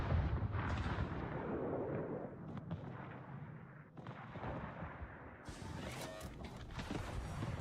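Naval guns on a German cruiser, an Anhalt, fire high-explosive shells in World of Warships as a steady stream of booming blasts over continuous rumble, loud and close throughout.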